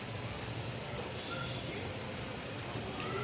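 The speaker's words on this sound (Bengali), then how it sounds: "এখন আবার বৃষ্টিটা শুরু হলো।" Rain falls steadily outside a home in the morning, a soft, even hiss that holds at a low level throughout with no break or distinct drops.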